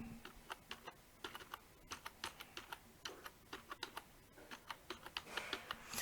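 Rapid typing on a computer keyboard while entering a domain name during website setup, with close, crisp, uneven keystrokes in short bursts and no talking.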